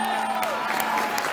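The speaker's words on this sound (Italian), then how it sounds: "per la quale vorrei un applauso prima di tutto" Crowd applause and cheering for an orchestra at an open-air year-end concert in a city square, steady dense clapping with scattered whoops, broad and sustained throughout.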